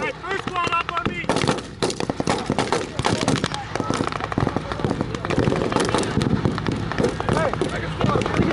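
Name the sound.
gunfire during WWII reenactment covering fire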